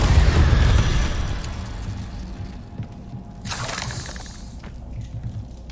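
In Hogwarts Legacy, the Incendio fire spell is cast in a spider-filled house: a loud fiery burst up front, decaying into crackling rumble, then a second shorter whoosh of flame a few seconds later.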